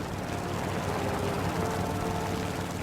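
A propeller-driven Heinkel He 112 B-0 fighter plane in War Thunder drones with a steady, continuous engine roar and airflow noise throughout, with no pauses or voices.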